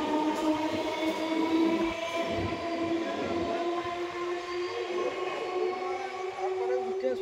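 Railway station platform ambience under a heavy overcast sky, with steady low rumble and sustained tonal drones like an idling train or distant horn, continuous and fairly loud throughout.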